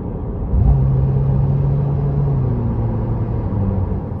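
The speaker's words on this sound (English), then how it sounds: "it will automatically turn on the engine for me." Ferrari 296 GTS with a 2.9-liter 120-degree twin-turbo V6 fires up automatically, a low rumbling start settling into a steady idle hum, close and alone with no talk.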